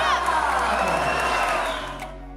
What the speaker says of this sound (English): The audience applauded Rafael's victory.